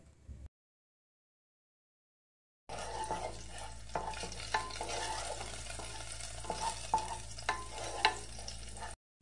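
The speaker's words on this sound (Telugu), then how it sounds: "మనం ముందుగా ఉడికించి పెట్టుకున్న రైస్ని యాడ్ చేసి బాగా మిక్స్" Cooked rice stirred into egg fried rice in a hot pan: a steady close sizzle with repeated scraping and stirring strokes of a spatula, after a short silent gap at the start, with no talking.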